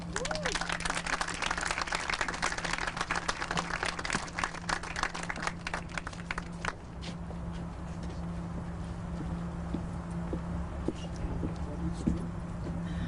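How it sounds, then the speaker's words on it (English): Outdoor audience applauding at a water infrastructure funding announcement, dense clapping that thins after several seconds into scattered claps and murmur. "Now, keep clapping."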